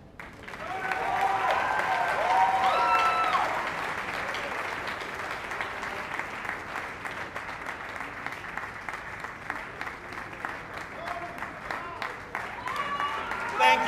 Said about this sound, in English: give them a big hand clap